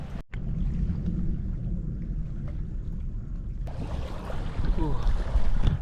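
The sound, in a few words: storm with strong winds on an island campsite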